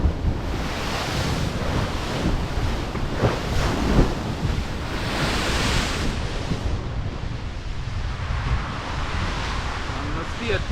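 Storm-driven surf pounds the Jamaican coast at Portland during a tropical storm, a loud continuous roar of crashing waves buffeted by heavy wind noise on the microphone, with voices faint underneath.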